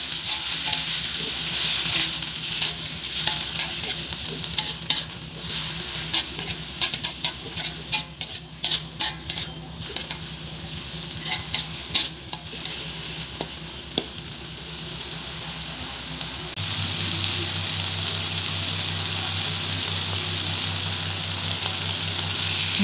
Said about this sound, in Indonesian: tumis sawi hingga layu.